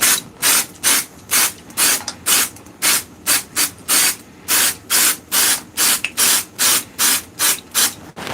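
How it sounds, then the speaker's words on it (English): Short bursts of CA glue accelerator spray hiss in a woodturning workshop, about fifteen quick puffs in a steady rhythm, loud and close with no talk. "This is accelerator spray for CA glue, just to get it curing faster."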